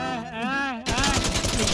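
Rapid automatic gunfire sprays at a car in the video game Infestation: The NewZ, a loud, dense, sustained burst that cuts in right after a shouted voice.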